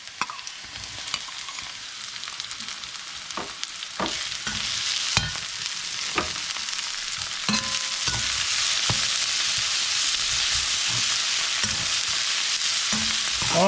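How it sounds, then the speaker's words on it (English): Shrimp sizzling in hot oil with aromatics in a pan, a steady frying hiss that builds over time, broken by sharp clinks and scrapes of stirring, no voices. "So we're gonna add our shrimp now,"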